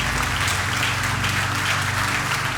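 Steady, dense applause from a crowd, continuous and fairly loud throughout with no talking over it.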